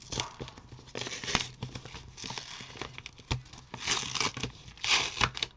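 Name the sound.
tearing open a paper envelope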